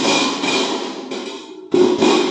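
Rivets being hammered into a homemade stainless steel barbecue grill, heard as loud, close metallic ringing blows in quick succession, with a short pause before a sharper strike near the end; no voices.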